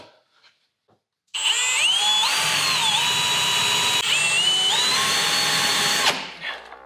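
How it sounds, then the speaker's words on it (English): A power drill starts abruptly and whines at high speed for several seconds while drilling holes in a Jeep LJ floor, its pitch rising and dipping as it bites, then stops. "So all we're gonna do is drill some holes"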